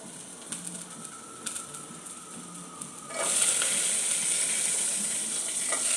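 Onions fry in a pan for a chickpea kadala curry. Faint pan noise first, then a loud, steady sizzle bursts in partway through and continues up close.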